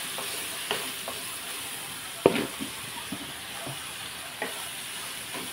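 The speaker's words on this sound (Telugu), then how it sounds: "ఇప్పుడు మనం ఉల్లిపాయలు వేసేసుకోవచ్చు" Onions fry in a pan for a tomato and raw prawn curry, giving a soft continuous sizzle broken by occasional spatula taps and scrapes, one sharper clank standing out.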